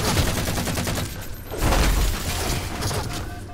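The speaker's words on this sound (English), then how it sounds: "I was about to say I'm sick of jackals shooting me" Gunfire from jackal enemies in the Halo 4 co-op campaign, a dense, rapid fusillade of loud shots and impacts rattling continuously throughout.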